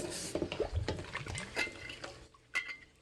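A 17-ounce metal Swell bottle is scrubbed in hot soapy water, giving soft sloshing, dripping and light metallic knocks and scrapes close up, fairly quiet and irregular.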